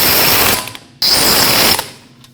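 A ratchet snugs the lower wheel-knuckle bolts on a 2014–2023 Jeep Cherokee with two quick bursts of loud, rapid clicking, close up, separated by a brief pause.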